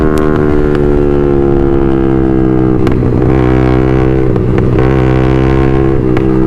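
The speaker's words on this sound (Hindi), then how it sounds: "वाह सारे बाइकर्स जा रहे हैं यार।" A group of motorcycles rides past on a road, a loud steady engine drone with layered exhaust tones that swells and fades as the bikes go by, with no talking.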